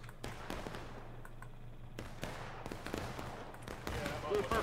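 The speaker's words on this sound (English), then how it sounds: "It looks like they're just more shifting to get some shots on the Union side." Faint, scattered musket volleys and cannon booms from a Civil War battle at Antietam in a strategy game rise irregularly as distant cracks and thumps, with a steady low hum and a voice talking over them.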